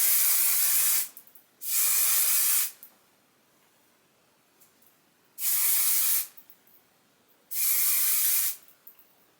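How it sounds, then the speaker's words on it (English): Color Wow Cult Favorite hairspray misted onto hair in four close, loud hissing bursts of about a second each, separated by quiet pauses. "Now let's hairspray it with the Color Wow Cult Favorite."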